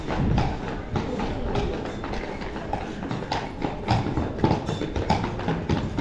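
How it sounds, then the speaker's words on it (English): Horses pulling a carriage through Krakow, their hooves clip-clopping in a steady, brisk rhythm on the street, fairly close and continuous against a busy outdoor background. "Here comes some horses and a carriage."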